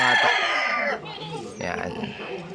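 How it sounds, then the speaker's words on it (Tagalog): Young SBR hens, about two months old, cluck in their coop, with close clucking and crowing-like calls mixed under a speaking voice. "ito yung ating mga SBR na kulit na mga inahin natin, mga bata pa."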